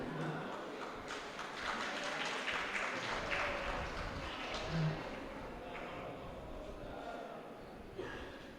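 Audience applause at an alumni association's 40th-year celebration in Chennai, a continuous wash of clapping from a crowd in a hall, moderately loud and sustained throughout with some murmuring voices mixed in.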